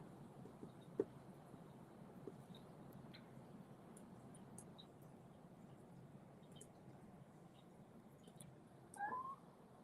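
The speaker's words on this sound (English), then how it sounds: "the kitties are all awake now and they're meowing at me" Pet cats meowing indoors, faint and intermittent against a steady low room hum, with a brief louder cluster of cries near the end.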